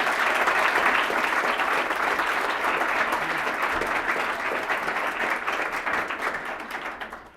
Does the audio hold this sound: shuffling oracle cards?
no